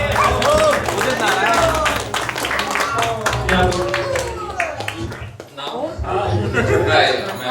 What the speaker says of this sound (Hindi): ढेर सारी तालियों के साथ वेलकम किया जाए